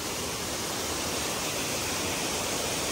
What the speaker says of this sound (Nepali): त्यहाँबाट ठुलो झरना झरेर